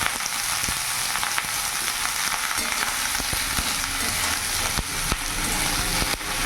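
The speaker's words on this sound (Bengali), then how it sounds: "রসুন পেঁয়াজটা ভালো করে ভাজা হয়ে গেছে, এরই মধ্যে কেটে রাখা চিচিঙ্গাগুলো সেগুলো দিয়ে দেবো" Snake gourd pieces fry with garlic and onion in a pan, a continuous dense sizzle with scattered sharp crackles and spatula scrapes, close and fairly loud, no talking.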